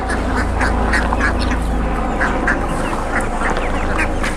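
Ducks being fed water spinach quack repeatedly in short, close bursts over a steady background hum, with no talking.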